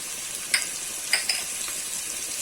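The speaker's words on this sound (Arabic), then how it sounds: "بعد ما تشحرت البصله واللون ديالها ولا ذهبي" Onion frying in a pan until golden, a soft steady sizzle broken by a few sharp clinks of stirring utensils against the pan, close and quiet.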